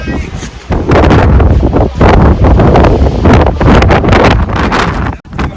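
Strong gusty wind buffets the microphone loudly in heavy, roaring bursts that keep rising and falling, high on Girnar mountain during the monsoon.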